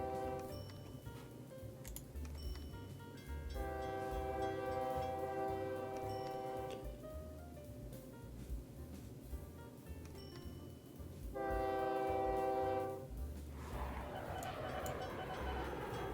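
Trains running in the OpenTTD video game: synthetic rail clatter and rumble with two bursts of a bright, tonal horn-like chime, steady low mechanical hum beneath, fairly quiet overall.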